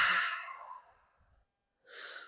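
A deep yoga breath taken while holding downward dog, a long loud breathy exhale or sigh fading out over about a second, followed after a short pause by a softer second breath.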